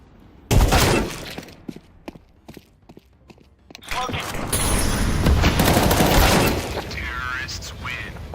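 Rapid gunfire and bullet cracks in the video game Counter-Strike 2, loud bursts and sustained volleys rattling out amid a firefight, with a voice talking over parts of it.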